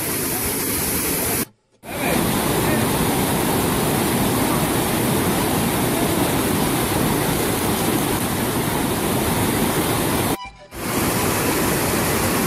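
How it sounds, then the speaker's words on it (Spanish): The Golondrina waterfall in Cantón El Rosario, San Ignacio, El Salvador roars as a loud, continuous broadband rush of falling water heard up close, briefly cut off twice by short gaps. "Cascada de la Golondrina es impresionante aquí en San Ignacio, Cantón El Rosario, en Salvador, Centroamérica"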